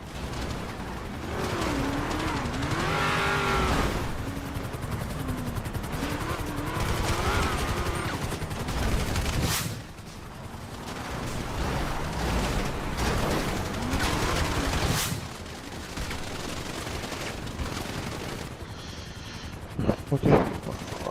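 Gunfire bursts in a competitive esports video game match, with a rapid crackle of shots and impacts sitting under excited, continuous commentary throughout.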